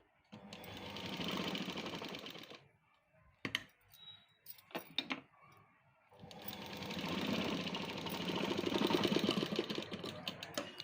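A sewing machine stitches tucks into a blouse with its lining, running in two loud, steady bursts of fast mechanical whirring separated by a pause of small clicks and handling noises.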